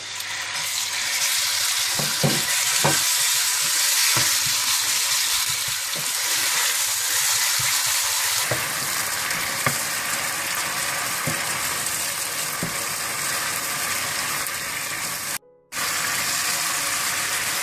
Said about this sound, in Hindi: सबसे पहले आप तेल डाल लें, इसमें आप चिकन डाल लें और इसको हल्का सा भून लें।